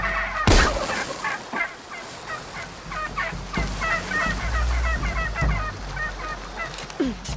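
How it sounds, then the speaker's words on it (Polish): Turkey in Shadow of the Tomb Raider gobbling in rapid rattling bursts, repeated several times over a bed of jungle ambience, with a couple of sharp thumps breaking in. "jeśli weźmiemy sobie pistolet i strzelimy właśnie tym nabojem błyskowym w indyka"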